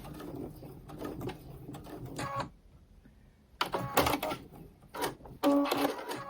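A sewing machine back-stitches quilt pieces in short bursts of rapid mechanical whirring, with a pause in the middle, then forward and reverse runs close by.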